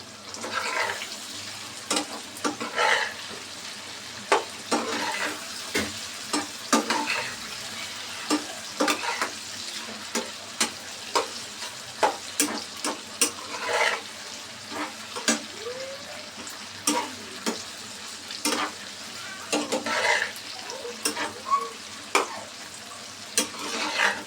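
Beef frying in a pan is stirred with sharp, irregular scrapes and knocks over a soft sizzle, close by, with no talking.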